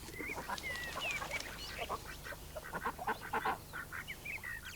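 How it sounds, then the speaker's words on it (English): Canada geese honking in a continuous run of overlapping calls, moderately close and fairly loud, with no talking. "Yes, and the Canada geese."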